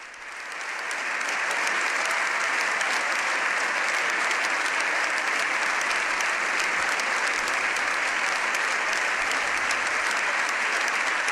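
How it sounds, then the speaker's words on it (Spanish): Long, steady ovation in the Spanish Congress of Deputies in Madrid: many hands clapping together at full volume after a brief rise, continuing unbroken for about eleven seconds without speech. "Este es el largo aplauso del Congreso."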